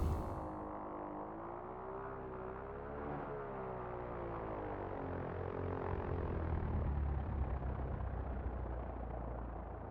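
A small plane rolls out down runway 28 at a small airport after landing in X-Plane 11, its engine a steady low drone with a slowly shifting whine, continuous and moderately loud, no other sounds.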